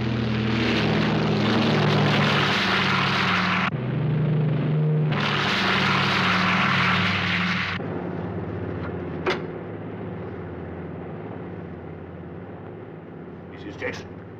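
A propeller airplane drones steadily in flight, a loud continuous engine hum with broadband rush that drops in intensity partway through, while people talk over it.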